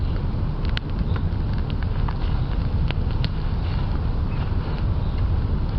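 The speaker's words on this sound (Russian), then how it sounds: "зеленые такие палочки, чтобы хрустели, слышите" Green sticks burning in a large outdoor campfire, giving a steady dense roar with scattered sharp crackles and pops, close and loud throughout with no talking.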